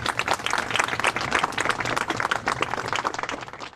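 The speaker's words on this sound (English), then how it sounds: "Round of applause." Applause at an online open mic show comes through as scattered, uneven clapping from several participants, fairly close and steady, with faint voices mixed in.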